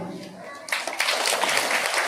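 An audience at a school poetry recitation competition bursts into applause right after a brief spoken line, and the dense clapping holds steady to the end.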